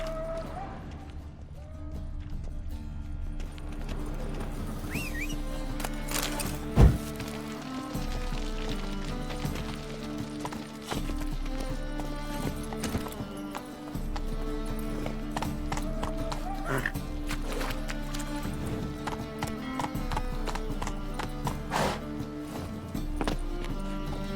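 A horse gallops in The Witcher 3 game, with rhythmic hoof clip-clops running steadily beneath the game's music and character voices, plus a sharp thump partway through.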